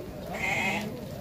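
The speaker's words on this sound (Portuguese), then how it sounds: "São 6 ovelhas e 9 borregos." Sheep and lambs bleat at a livestock sale in Dois Riachos, Alagoas, a single clear, sustained bleat rising over a steady background of farm-yard noise, fairly close.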